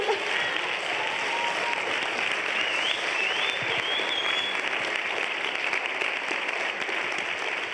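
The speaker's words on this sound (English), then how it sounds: "You get to clap for Sarah." Sustained applause fills a room at closing remarks, many hands clapping steadily and densely at close range for several seconds, with faint voices mixed in beneath.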